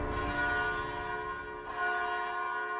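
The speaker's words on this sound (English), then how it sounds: "the bell is not me" A sustained church-style bell rings in a recorded music track, steady and resonant, with a slight swell partway through and no talking.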